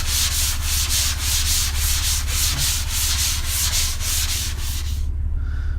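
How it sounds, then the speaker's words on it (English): Rhythmic back-and-forth scrubbing of a medium-grit sanding sponge over a drywall repair, loud and close, with even strokes about twice per second before it stops abruptly. "a sanding sponge. Very flexible, it makes quick work of sanding off the repair"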